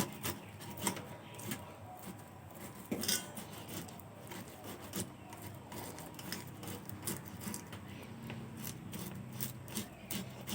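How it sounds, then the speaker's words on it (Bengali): Two potatoes rubbed against a metal kitchen grater, a close, steady series of rasping scrapes with light clinks of the utensil, continuing alone without talk. "এই আলু দুটো আমি এখন গ্রেন্ডারে গ্রেট করে নেব"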